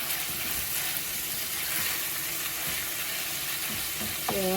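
Smoked pork and ground meat fry in a skillet with a steady, close sizzle and crackle, while a utensil scrapes and stirs now and then, and a short clink comes near the end.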